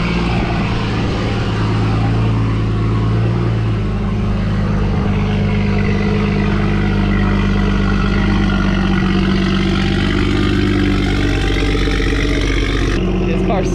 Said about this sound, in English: This car's so loud.